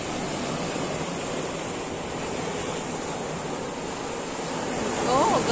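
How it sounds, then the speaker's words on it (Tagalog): Strong sea waves surge onto a beach shore in a steady, loud broadband wash that swells slightly toward the end. "ang lakas ng alon"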